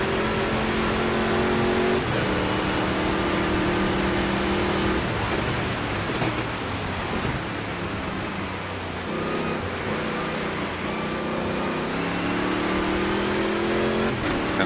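Race cars in the Automobilista 2 video game run their last lap, with a continuous loud engine drone that rises and falls through gear shifts and revving, without talk.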